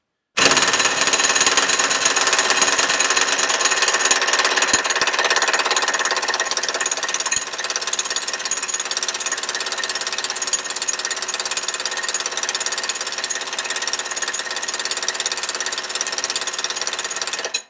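A Husky H4480 impact wrench set to 1,000 foot-pounds hammers continuously at a stubborn nut, a loud, dense rattling that holds steady for about seventeen seconds and never breaks it free.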